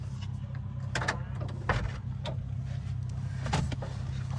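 Power window on a Maruti Wagon R car whirring upward over a low idle hum, with a few faint clicks and knocks from inside the cabin.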